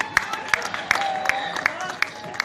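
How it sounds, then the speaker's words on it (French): An audience at a donation ceremony for a COVID-19 relief project claps in a sparse, uneven scattering of sharp individual hand claps, with a voice and crowd murmur running underneath. "Si vous voulez applaudir, applaudissez."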